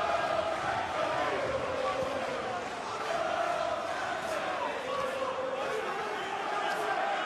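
Passionate boxing crowd at the Fedor Chudinov vs Frank Buglioni fight during the seventh round, a steady dense roar and murmur of cheering spectators filling the whole span with swells of shouting.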